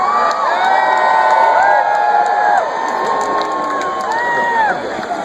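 A large outdoor crowd at the Groundhog Day celebration in Punxsutawney cheers and whoops continuously, loud and dense, with shrill whistles and shouts rising over the roar and easing slightly toward the end.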